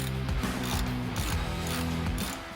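A ratchet wrench clicks rapidly and continuously while undoing the power steering box bolts on a Toyota LandCruiser 80 series, close up and loud with no talk.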